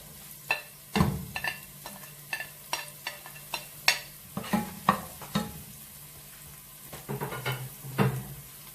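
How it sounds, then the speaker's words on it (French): Onions and garlic frying in a pan for paella, with a soft steady sizzle under repeated light scrapes and taps of a utensil stirring against the pan, close and fairly quiet. "On va laisser revenir jusqu'au temps que les oignons se blanchissent, pas plus."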